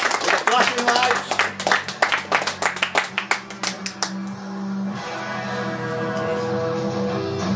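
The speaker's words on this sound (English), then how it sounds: "Give him a round of applause, please." A crowd at a live comedy show claps for a guest, a burst of brisk, sharp claps that quickly thins out and fades into a low room hum.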